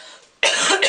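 A single sharp, loud cough bursts out at close range after a quiet moment, from someone with a cough.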